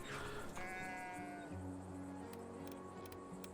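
A sheep bleats in the video game Town to City, a short wavering cry near the start, played over soft background music at low volume.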